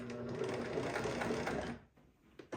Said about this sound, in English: I'm going to sew right up to the edge of the fabric,